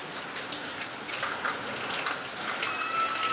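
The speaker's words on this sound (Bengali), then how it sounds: "বাইরে এই যে বৃষ্টি শুরু হয়েছে আবার" Steady monsoon rain patters on a surface as a continuous, even hiss, with no voices present.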